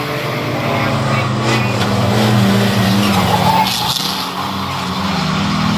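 Racing vans circle Bovingdon Raceway, a continuous loud engine roar with passing whooshes and tyre noise, blended with the crowd and background chatter of the track.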